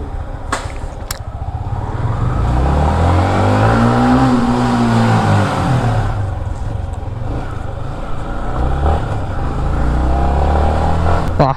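A motorcycle engine with a performance upgrade runs loud and close, rising and falling through a few revs with a rumbling drone throughout.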